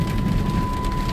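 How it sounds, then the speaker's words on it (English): Heavy rain pouring steadily during a thunderstorm in Logansport, a dense continuous roar with low rumbling underneath, loud and unbroken throughout with no talking. "It is raining pretty badly right now here in Logansport."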